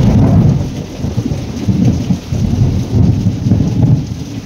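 Loud, deep rolling thunder rumbles continuously through a heavy late-monsoon downpour, with the dense hiss of rain on surfaces close by and no one speaking.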